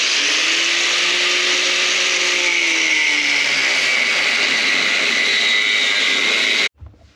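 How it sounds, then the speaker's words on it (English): A power tool cuts a weld out of a beach buggy chassis, one loud, steady high whine holding for several seconds before stopping abruptly, then faint knocks. "carefully cut that weld out, remove those pieces"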